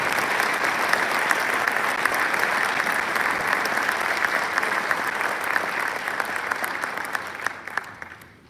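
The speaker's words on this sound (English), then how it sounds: "Please give them a round of applause as they accept on behalf of their father." Sustained audience applause at a high school National Honor Society induction ceremony in Bethel Park, dense even clapping that holds steady for several seconds, then thins and fades away at the end.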